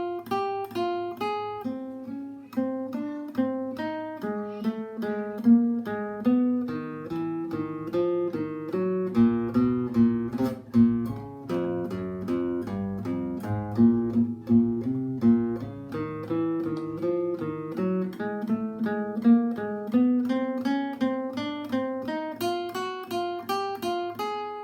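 Guitar finger warm-up exercise, single notes stepping down from the top and back up again in an even, steady rhythm, played close and alone for a long stretch.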